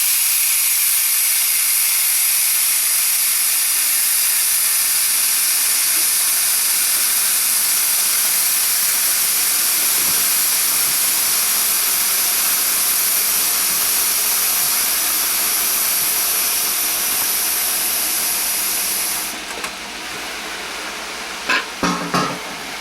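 Steam hisses loudly and continuously from the released valve of a pressure fryer cooking chicken, a broad steady rush lasting about twenty seconds before cutting off abruptly, followed by a few brief clicks.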